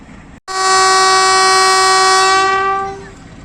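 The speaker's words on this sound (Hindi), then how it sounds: "फाइनल विसल और साथ ही ये ट्रेन चल पड़ी है" A Rawalpindi passenger train at Haripur sounds one long, loud, close horn blast of about two and a half seconds after a brief silence, then fades as it departs.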